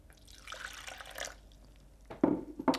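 Filtered water trickles and splashes into a blender for a green smoothie, a soft pour followed by a couple of louder splashy bursts near the end, fairly faint and close.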